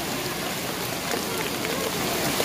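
A downpour falls hard and steadily at an outdoor horse-riding event in Pondicherry, the broad rushing patter of rain filling the short stretch evenly and up close.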